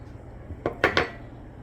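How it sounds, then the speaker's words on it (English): Sugar and salt mixed in a bowl, three quick scraping strokes of a utensil against the bowl, close and brief, with no voices. "Just mix it up."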